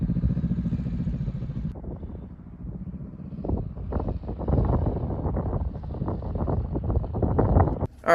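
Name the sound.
wind blowing into the microphone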